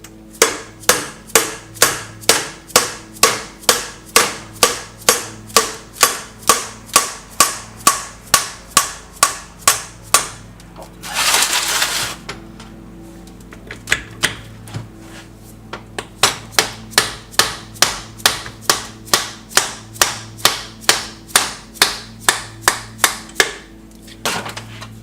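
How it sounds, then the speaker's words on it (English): A dead blow hammer with a brass end taps repeatedly on a threaded Royal Enfield 350 Bullet trials motorcycle part, giving steady sharp metallic knocks. A short scraping burst interrupts the series midway before the even tapping resumes, with no talking. "this is a dead blow hammer with a brass end, so we won't damage the threads."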